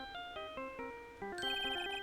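A phone in the game Phoenix Wright: Ace Attorney playing a song through its radio, a bright electronic tune of stepped synth notes that rises into a busier, higher passage, clear and alone.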